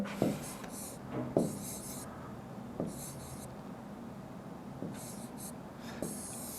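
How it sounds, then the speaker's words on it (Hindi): A teacher writes a number on a board in several short bursts of scratchy marker or chalk strokes, with light taps between them and brief pauses, close and fairly quiet. "आपका मान लो एक संख्या मैं लिखता हूं"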